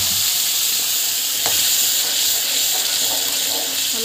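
Ground masala paste frying in hot oil for mushroom gravy, a steady bright sizzle with faint stirring scrapes, close and continuous.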